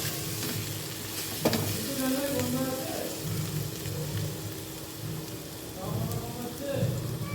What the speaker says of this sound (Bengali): পেঁয়াজ দিয়ে আলু ভাজাটা বসিয়ে দিয়েছি।